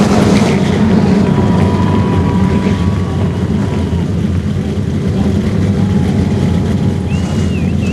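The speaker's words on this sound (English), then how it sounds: "Gentlemen, start your engines!" Field of ASA race cars firing up their engines at Indianapolis Raceway Park, a dense, continuous low rumble of many motors heard from a distance, with wind buffeting the microphone.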